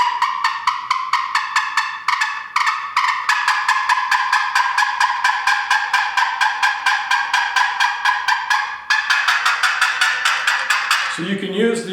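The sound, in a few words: turkey box call yelping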